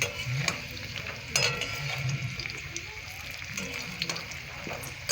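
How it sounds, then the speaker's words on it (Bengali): Potatoes fry in oil with a steady sizzle and occasional stirring scrapes and clinks, close and fairly loud, no voices. "এবার ভালো করে ভেজে নেব লাল লাল করে"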